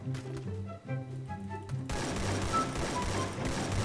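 Rapid gunfire in the mobile battle-royale game Free Fire: after a calm start, a loud continuous stream of automatic shots erupts and keeps rattling to the end.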